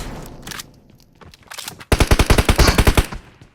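Rapid automatic gunfire from the PUBG Mobile battle royale game, a loud burst of evenly spaced shots in the second half after quieter scattered shots and game noise.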